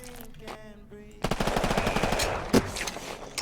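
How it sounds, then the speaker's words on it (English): Rapid automatic gunfire from a gun in a biopunk video game under development, a dense rattling stream of shots starting after a brief voice and continuing steadily for about two seconds, with one sharper burst near the end. "So here's the gun."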